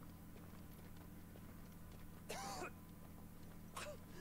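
Two short coughs from a character in the game Final Fantasy XVI, rough bursts a second and a half apart, standing out over a steady low background hum.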